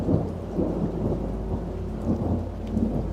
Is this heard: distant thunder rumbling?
yes